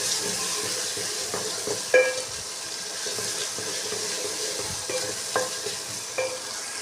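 Browned onions frying in hot ghee with ginger garlic paste, cumin, green chilli and tomato, a steady soft sizzle with occasional stirring scrapes and small clinks of a spoon against the pan.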